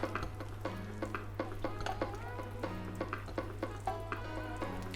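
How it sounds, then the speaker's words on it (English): Sausages fry in melted butter in a pan, a soft, faint sizzle under a low steady hum, broken by repeated light clicks and taps of utensils against the pan. "now that it's melted, we will put the sausages"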